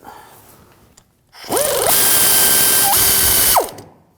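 A ratchet wrench works bolts loose on the rear wheel hub of a 2007–2013 BMW 328i during a wheel bearing job. A rapid, loud, steady clicking run lasts about two seconds after a quieter lead-in.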